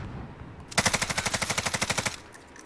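Automatic weapon fire in the battle royale video game Warzone, a single sustained burst of about fifteen rapid, evenly spaced shots, close and loud, with no voices over it.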